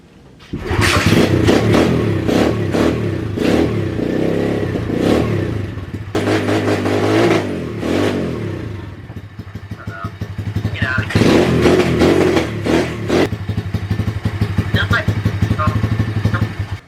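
A motorcycle engine being started and revved up close, with loud bursts of throttle rising and falling over a clattering idle while people talk nearby.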